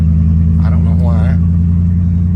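A 1970 Pontiac LeMans engine drones steadily and loud from inside the car while driving and shifting, a low constant hum with a brief voice speaking over it partway through.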